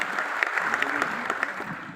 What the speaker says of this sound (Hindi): अल्पेश सर के लिए एक बार जबरदस्त तालियां बजा लीजिए